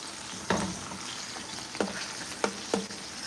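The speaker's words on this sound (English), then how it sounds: "So these pork chops won't take no time to cook up." Pork chops fry in a pan with a steady background sizzle, broken by a few sharper spitting or clattering bursts; close and moderately loud, with no voices.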